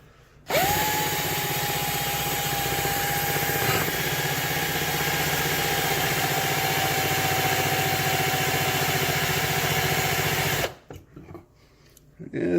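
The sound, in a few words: drill with Black & Decker bit drilling through a lock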